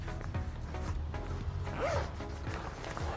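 A zipper runs along a pocket of a Matador SEG28 travel bag, a soft rasping pull heard close up over a steady low background hum, with no talking.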